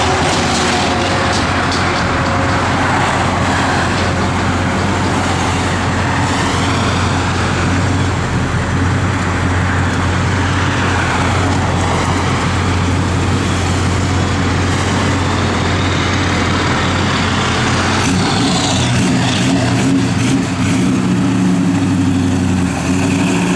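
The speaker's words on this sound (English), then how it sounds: "Traffic this morning, guys." Steady morning road traffic with cars and trucks rumbling past, a continuous near engine drone and idling hum with passing swells, no talking.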